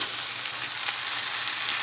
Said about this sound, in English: As the meat starts to cook